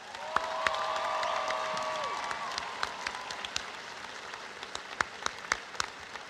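A high school graduation audience applauds the teachers. A swelling crowd of clapping opens with a sliding whistle and cheers, then thins to scattered individual claps as it dies down.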